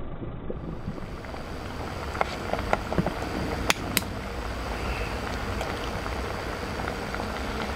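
Tomato juice mixture with honey boiling in a pot, a steady close bubbling and gurgling with scattered small pops and clicks throughout.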